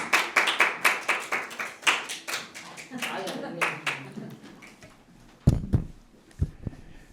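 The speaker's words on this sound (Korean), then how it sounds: "우리 박수로 환영하겠습니다" A church congregation claps in welcome as the pastor comes forward at a Sunday worship service, a quick series of sharp, close claps overlapping speech, then fading into quieter talk with a few louder knocks near the end.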